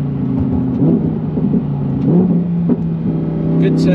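Lamborghini Huracan Tecnica engine pulling hard out of a corner, a loud steady drone rising in pitch with a couple of brief throttle blips, close and continuous throughout.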